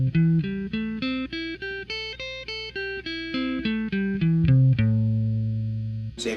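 An electric guitar plays an E-shape minor 7th arpeggio, a quick run of single picked notes climbing and falling, then a final note left ringing and fading, clear and close.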